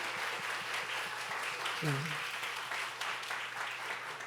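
A church congregation claps at a summer Bible school opening service, a dense steady patter of applause throughout, with a brief spoken reply partway through.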